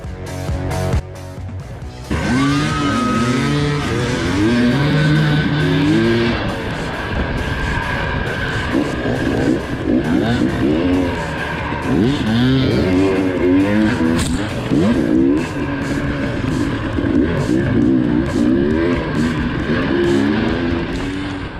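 A dirt bike engine on an enduro trail ride in California fires up and then revs hard and continuously, its loud close-up drone rising and falling as the rider shifts and accelerates across rough ground.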